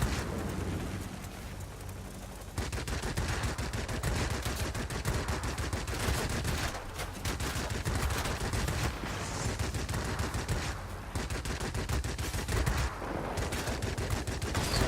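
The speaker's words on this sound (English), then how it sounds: "Some short bursts here so we don't get our guns too overheated." Machine guns of a Goodyear F2G Super Corsair fighter in World of Warplanes fire in rapid rattling bursts, loud and dense over steady engine and ambient noise, with brief pauses between bursts.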